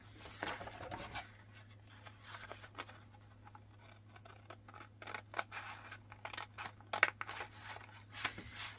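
Scissors snip across paper labels in a quiet room, a few crisp cuts standing out over a low steady hum, with soft handling rustles in between.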